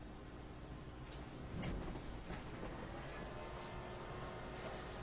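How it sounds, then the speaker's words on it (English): An inkjet printer feeds heat transfer paper through its front tray, giving a steady mechanical whir with soft clicks and a brief louder rattle of the print head and rollers, continuous and close. "And we're printing."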